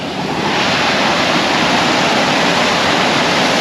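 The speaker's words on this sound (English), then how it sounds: "first little mini waterfall that I see here." A small waterfall in a stream pours steadily, a loud, continuous broadband rush of falling water close by with no talking over it.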